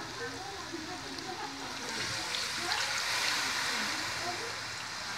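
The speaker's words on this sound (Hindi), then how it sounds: "4 से 5 कप पानी से डाल दूँगी।" Four to five cups of water poured into a pot of chicken nihari over a fried spice base, a soft rushing splash that swells midway and continues steadily.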